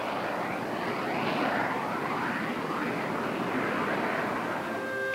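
Military aircraft flying, a steady broad roar of engine noise holding at an even level throughout, with no voices.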